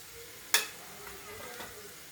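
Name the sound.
curry leaves and garlic frying in oil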